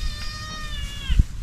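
A cat gives one drawn-out, wavering meow over low background rumble, with a brief thump near the end.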